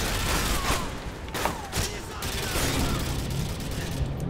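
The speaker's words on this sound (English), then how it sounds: "Ah, freaking shotguns." Shotgun blasts and gunfire from the video game Call of Duty MW2 crackle in a dense, loud barrage with several sharper bursts, filling the whole stretch.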